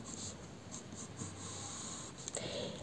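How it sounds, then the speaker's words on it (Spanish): A pencil drawn across card makes a light scratching stroke, a brief continuous scrape close by, followed by a small tap near the end. "La voy a dibujar con lápiz."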